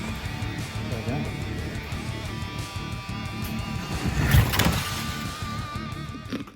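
A Carrera Dodge Charger Daytona slot car whirs steadily around a track, its electric motor producing a continuous buzzing hum with small pitch shifts as it laps, while a person talks over it and a brief clatter rises near the end.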